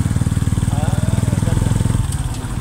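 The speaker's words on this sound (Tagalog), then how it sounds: "Ito sarili mo na itong motor." A motorcycle tricycle in Kabacan, Cotabato runs nearby, its engine chugging in a fast, steady rhythmic putter, loud and close, easing off slightly toward the end.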